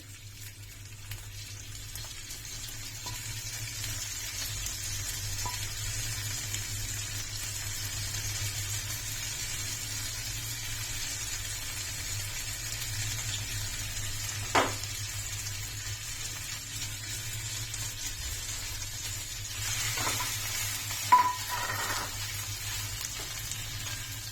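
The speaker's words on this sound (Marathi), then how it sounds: "आता मी त्यात हा आपण धुवून ठेवलेला तांदूळ घालून चांगला परतून घेते" Washed rice with cloves stirred in hot ghee for sweet coconut rice, giving a steady, moderate sizzle throughout with a few faint clinks of a spoon against the pan.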